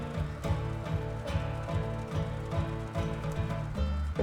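In the WolfQuest video game, a cow elk gallops with a fast, steady drumming of hooves over a sustained musical score.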